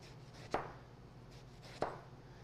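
A knife cuts an eggplant into 1-inch pieces on a board, two distinct cutting thunks about a second apart over a quiet, steady low background hum.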